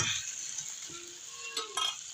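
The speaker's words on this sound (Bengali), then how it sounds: "এই দেখুন বন্ধুরা, আলু ফুলকপিটা ভাজা হয়ে যাচ্ছে।" Potato and cauliflower frying in a pan, a soft continuous sizzle with a couple of light spatula scrapes near the end, close and fairly quiet.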